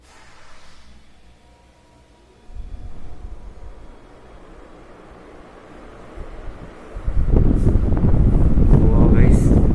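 A 1990s Crompton Greaves Five Star 48-inch, five-blade pearl white ceiling fan switched on at full speed gives a steady broadband whoosh of moving air that swells in two steps and grows loud and close toward the end.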